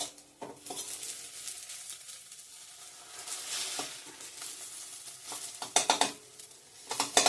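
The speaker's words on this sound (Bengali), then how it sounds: "সোয়াবিনটা একটু ভেজে নামাবো" Soybean chunks frying in a pan, a close sizzle broken by scraping spatula strokes and metallic clinks against the pan, louder bursts of stirring toward the end.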